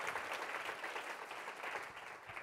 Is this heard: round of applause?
yes